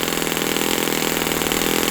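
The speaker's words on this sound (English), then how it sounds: "See, the RPM should come up and then drop back down to where it was." A Magnum XL 30 RFS model glow engine runs steadily at high speed, its RPM climbing briefly and then settling back to the earlier pitch, loud and close with no talk.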